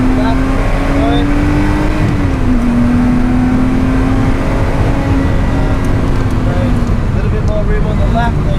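A race car engine drones loudly on the Oulton Park circuit, heard from inside the car as a steady, dense roar whose pitch dips and then holds, with an instructor's voice partly under the noise.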